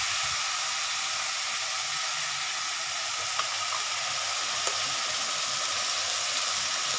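Tomato and green chili paste sizzles in a hot pan while cooking a catla fish curry with cauliflower and potato, giving a steady, even hiss throughout with a couple of faint clicks.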